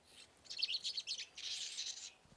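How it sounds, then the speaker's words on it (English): Small Galapagos finches chirp in a quick run of high, bright calls, two clustered bursts of twittering close by with no voices. "it was his collection of these undramatic little birds, the finches"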